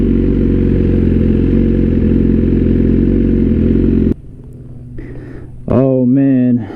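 A BMW S1000RR sport bike engine idles loud and steady at close range for about four seconds, then cuts off; after a short quiet gap someone speaks briefly.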